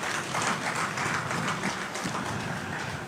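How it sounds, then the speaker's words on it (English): Audience applause at a funeral service, a dense, even patter of many hands clapping throughout a large room, moderately loud and sustained without voices. "please give yourself a resounding round of applause for being here"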